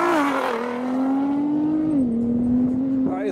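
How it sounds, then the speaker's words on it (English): A Nissan GT-R R35 and a BMW M8 Competition drag racing, one engine's loud rising drone holding and stepping up through a gear change as the cars pull away. "We've got the Nissan GT-R R35 versus the BMW M8 Competition."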